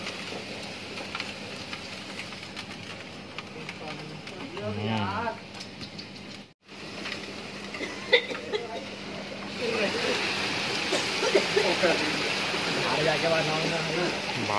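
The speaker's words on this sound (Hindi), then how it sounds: "देखिए दोस्तों बाहर पानी कितनी तेज गिर रहा है और ओले भी गिर रहे हैं" Heavy rain with hail and strong wind outdoors, a dense continuous wash of water and gusting noise with scattered sharp impacts, while a voice talks intermittently over it and the roar swells louder near the end.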